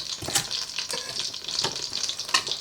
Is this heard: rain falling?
no